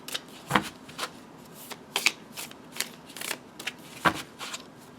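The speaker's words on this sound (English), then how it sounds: "This first edition is quite difficult to shuffle." Tarot deck being shuffled, a first-edition Wild Unknown set that is stiff to handle: a run of crisp card riffles and flicks at irregular intervals, close and moderately loud, with no voices.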